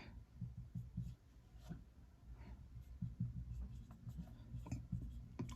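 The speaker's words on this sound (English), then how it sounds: "let me just erase this" A lecture-hall board being wiped clean in a physics class, soft irregular rubbing and brushing strokes, fairly close and continuous, with no one speaking over it.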